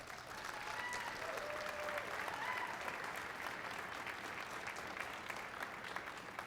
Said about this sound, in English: give this guy like a real round of applause here